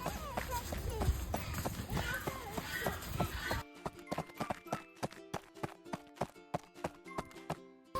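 Horse hooves clop in a steady, evenly spaced rhythm, close and distinct, after a few seconds of noisy background chatter and movement at a horse farm.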